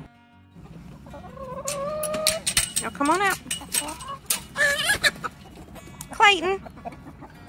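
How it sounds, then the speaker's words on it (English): Chickens cluck and squawk in a backyard coop, several birds calling in uneven bursts close by, while a person talks over them. "now I'm gonna go over here and check on the chickens real fast, make sure they're okay"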